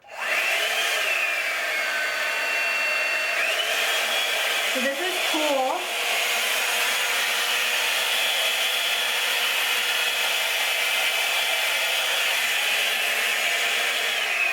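A Drybar Single Shot blow drying brush runs with a loud, steady whir throughout, shifting briefly in pitch partway through as it changes from low to high, with a short spoken remark near the start.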